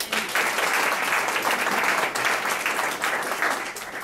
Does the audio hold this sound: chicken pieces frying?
no